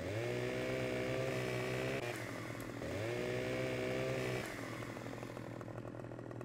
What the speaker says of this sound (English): this chainsaw I'm going to use to farm from now on